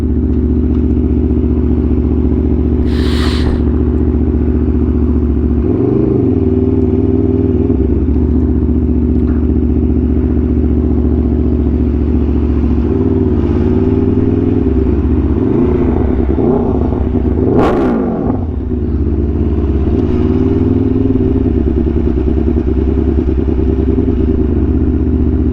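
Aprilia Tuono V4 1100 motorcycle fitted with an SC Project exhaust, idling loud and close with a deep steady rumble, broken by several sharp throttle blips and revs.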